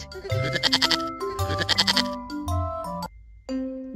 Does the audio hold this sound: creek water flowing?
no